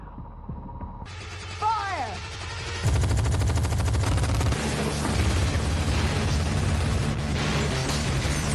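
A heavy multi-barrel weapon fires in a futuristic film battle inside a drug cartel's tower, a dense, loud, continuous roar of rapid fire that kicks in abruptly after a low hum and whooshing effects, with a brief pause and resumption.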